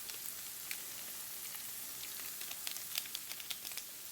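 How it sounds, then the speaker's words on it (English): Taco meat mix sizzles and crackles steadily in a frying pan, a soft constant fry with scattered small pops, close but fairly quiet. "Okay, remaining taco mix going in."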